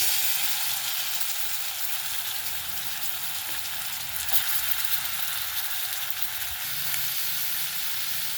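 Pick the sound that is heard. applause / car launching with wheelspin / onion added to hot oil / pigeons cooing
onion added to hot oil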